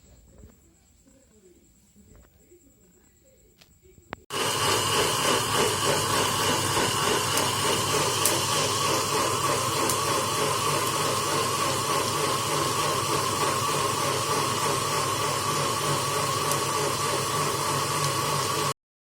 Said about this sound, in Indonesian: Kemudian dihaluskan di blender selama 3 menit.